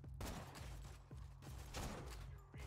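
Gunfire from a legendary Jacobs sniper rifle in Borderlands 2, a quick run of shots with sharp cracks near the start, middle and end over steady game noise, heard faint and without talk.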